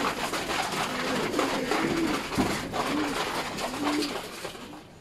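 Racing pigeon hens cooing in a loft, several soft repeated coos close by over a steady background hum, with no talk.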